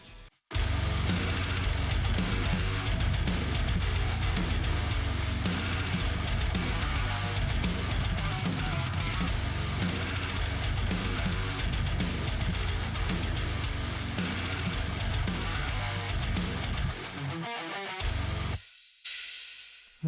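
A full, dense band mix with driving electric guitars through a Fortin Cali amp plugin, bass and drums playing continuously and loud, stopping abruptly near the end.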